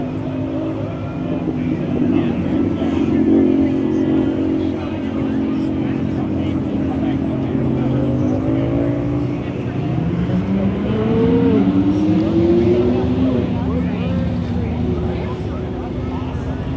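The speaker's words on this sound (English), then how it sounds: "people can just sit down and watch the cars go by" Classic cars, including vintage Chevrolet trucks, cruising past along Woodward Avenue during the Dream Cruise in Birmingham, Michigan. Engines rumble steadily with rising and falling revs as vehicles pass nearby, while a crowd murmurs in the background.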